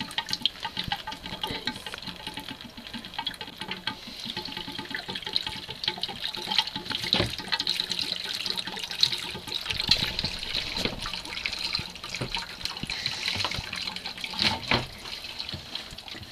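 Water runs steadily through a filter aboard an Albin Vega sailboat during winterizing, a continuous close trickling and splashing with occasional drips and knocks, no voices.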